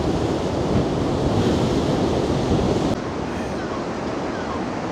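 Choppy sea waves and strong wind at Blackpool after Storm Floris: a loud, continuous roar of surf with wind buffeting the microphone, steady throughout with no talking.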